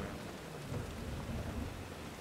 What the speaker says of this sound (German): Okay, wir sehen erstmal Regen.